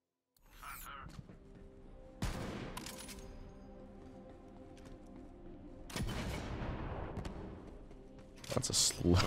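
Rocket fire in Borderlands 3: several booming blasts with ringing, decaying tails, spaced a few seconds apart and growing denser at the end, with a player talking over the action.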